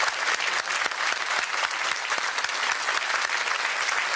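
A studio audience at a TV game show claps steadily and densely throughout, a loud continuous wash of applause with no talking.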